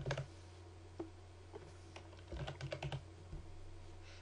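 Someone types an archive name on a computer keyboard, producing faint, close key clicks: a few isolated taps, then a quicker burst of keystrokes and a trailing click.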